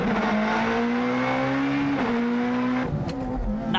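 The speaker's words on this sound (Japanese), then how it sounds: "ミドシップのフェラーリが FF アコードの後塵を浴びている。" A mid-engine Ferrari and a front-wheel-drive Honda Accord accelerate in a 0-400 m drag race, one car on cracked, worn tyres; a loud, sustained engine drone climbs in pitch, breaks for a gear shift, then rises again, with a brief higher squeal near the end.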